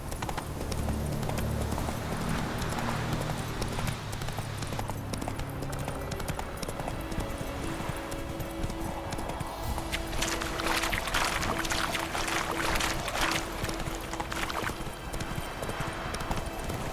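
Hooves of the horse in the video game The Witcher 3 beat out a quick, steady galloping clip-clop that runs the whole time, loud and close, over a layer of game music and ambience.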